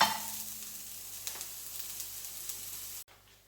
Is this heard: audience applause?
no